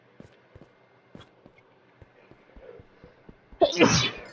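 A single sharp sneeze bursts out at the end, preceded by faint, scattered taps and shuffling in an indoor room.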